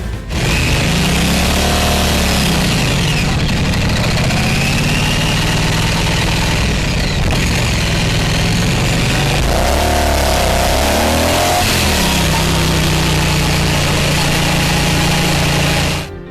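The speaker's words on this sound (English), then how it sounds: "the exhaust sounds fantastic. It's got a really great deep beat" A deep, throbbing twin exhaust on a 2016 Triumph Bonneville Street Twin motorcycle idles steadily, with a few revs rising and falling, loud and close throughout.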